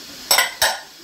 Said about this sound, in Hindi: इसलिए तो मैं इनको सेट कर लूँगी सारे बर्तन वगैरह